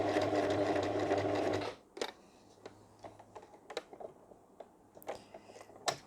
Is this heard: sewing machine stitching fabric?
yes